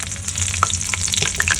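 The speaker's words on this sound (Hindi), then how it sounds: "गांव में पचफोरन का छौंक लगता है।" Panch phoron whole spices crackle and sizzle in hot oil as they temper, with a steady frying hiss and scattered sharp pops, close up and with no voices.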